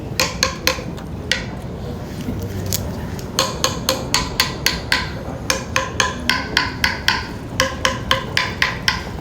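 A nail strikes a slitted PVC pipe homemade instrument in quick, sharp, close knocks, irregular at first and then a fairly steady run of clacking hits over a low background rumble.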